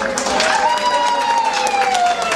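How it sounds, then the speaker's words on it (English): A live music show audience claps for a honeymooning couple, a steady round of applause with a sustained musical tone running underneath it. "Give them a big round of applause."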